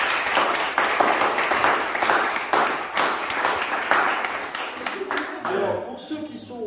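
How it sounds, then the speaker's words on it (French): Audience applause at a school graduation ceremony, a dense, sustained patter of many hands clapping in a hall that thins out toward the end as a voice begins to speak. "Donc on peut applaudir Victoria."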